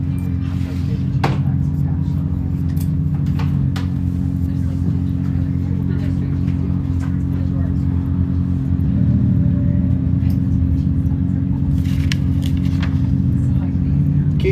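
A 1996 Cherokee race car runs through a corner during qualifying at an off-road race in Powell, Wyoming. Its engine gives a sustained, fairly loud rumble that swells slightly partway through, with a commentator talking over it.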